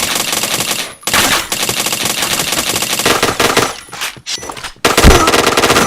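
Rapid machine-gun bursts rattle loudly and densely in a shooter game, broken by short pauses, with a heavy thump near the end.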